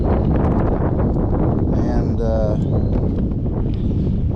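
Strong wind roars steadily over a microphone on a lake in December while kayak fishing for trout, with voices talking through it.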